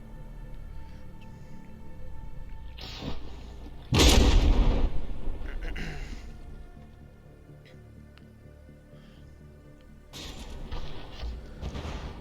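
Battleship cannons fire in the naval combat game From the Depths during a tournament brawl: one loud, booming close blast, then a second, softer round of gunfire about six seconds later over a steady low background rumble.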